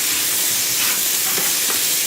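Vegetables for a pasta bake fry and sizzle steadily in a pan, a dense, loud, continuous hiss with faint stirring scrapes, no voices.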